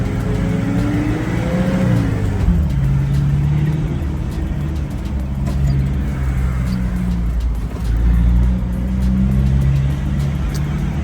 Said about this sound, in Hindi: अब मैं अपनी गाड़ी को पुश दे रहा हूँ।